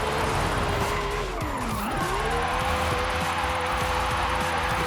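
A McLaren 650S in a driving video game drifts sideways with squealing tires over a sweeping engine note whose pitch dips and rises, loud and continuous, with no talking.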